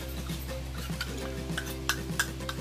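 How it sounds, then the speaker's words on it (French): Soy sauce with ginger being stirred on a plate: quiet, light scraping and clinking of a utensil against the plate, with a few sharper taps over a soft steady hum. "Je mélange une sorte de sauce soja"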